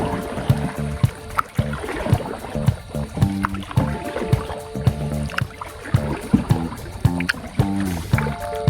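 A small wooden bangka is rowed on open water, with rhythmic paddle strokes splashing and gurgling about once a second, close and moderately loud.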